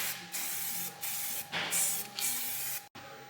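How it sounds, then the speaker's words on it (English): Acid etch primer sprays onto a bare steel panel from a Land Rover Defender seatbox repair in several short, close hissing bursts separated by brief pauses. "we're just going to put some acid etch on this steel"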